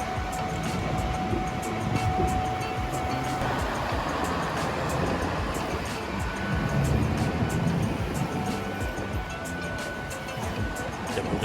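A train rumbles past with continuous rolling noise and clattering wheels, loud and fairly close, with faint voices in the background.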